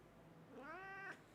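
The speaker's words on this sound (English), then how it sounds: "It's a very cute cat" A domestic cat gives a single drawn-out meow, rising then falling, fairly close but quiet, with no talking.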